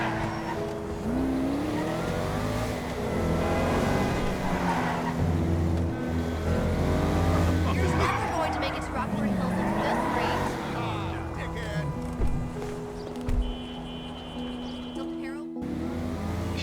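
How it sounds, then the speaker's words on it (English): A Gallivanter Baller ST SUV, a Range Rover Sport SVR Ultimate lookalike in GTA, drives hard with engine revving, shifting pitch and tire squeal as it skids and understeers through corners, loud and continuous beneath steady narration. "If you don't brake enough for the corners, you will simply go straight on or understeer into the scenery."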